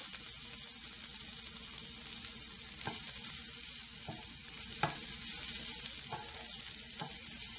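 Sesame seeds, dry coconut powder, roasted cumin and red chilies frying in a pan for a bitter gourd dish, giving a steady close sizzle with a few sharp crackles and stirring taps, no talking.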